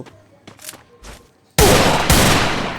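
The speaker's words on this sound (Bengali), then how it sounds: "এনিমি এসে ফায়ার করছে হেডশট মেরে দিয়েছে" Enemy gunfire in a mobile battle-royale shooter game, a loud sustained burst of rapid shots that cuts in suddenly after quieter in-game sounds and keeps going to the end.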